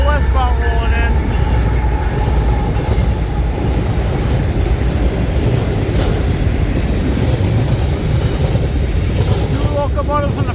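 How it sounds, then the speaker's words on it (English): A westbound train with locomotives at the front rolls in, a loud continuous rumble and rattle of rail cars with faint squeals, steady for the whole stretch. "Here comes that Westbound rolling in."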